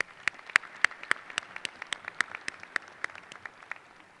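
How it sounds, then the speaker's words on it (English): Audience applause at a college business school commencement ceremony: a sparse, echoing patter of individual claps in a large hall, steady and moderately loud, with no voices. "Let's give them a round of applause, please, as well."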